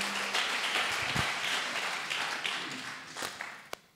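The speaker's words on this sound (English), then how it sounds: "Can we clap for the Lord?" Congregation at a church sermon clapping for the Lord, a dense wash of hand claps sustained throughout and fading slightly toward the end, with a few sharper taps standing out.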